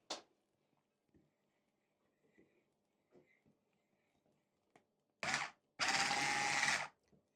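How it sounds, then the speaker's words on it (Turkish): Electric hand mixer whipping tiramisu cream with instant coffee granules, two short bursts of whirring motor, the second longer, after near silence with faint clinks, recorded close. "mikserden çekeceğiz. Homojen hale getireceğiz."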